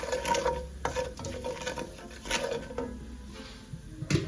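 Roasted cumin, crushed coriander, carom seeds and salt sauté in a pan with a soft, steady sizzle and repeated scraping stir strokes from a close utensil, with no talking.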